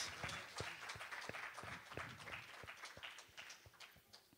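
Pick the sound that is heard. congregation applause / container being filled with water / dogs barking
congregation applause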